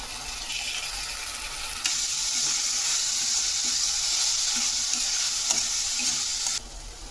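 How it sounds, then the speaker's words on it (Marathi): Ginger garlic paste sautéed in a pan for a curd chicken recipe gives a steady close sizzle and frying hiss, with a few stirring scrapes and the sizzle swelling louder partway through. "आपण इथे अद्रक आणि लसूणची पेस्ट टाकणार आहोत हे दोन मिनटं परतून घेतल्यानंतर आपण यामध्ये टोमॅटो घालणार आहोत"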